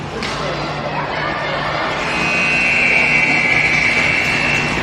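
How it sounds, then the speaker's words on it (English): An end-of-period buzzer sounds at an amateur ice hockey game, a long steady loud electronic tone sustained for several seconds over arena noise and crowd voices. "And the buzzer."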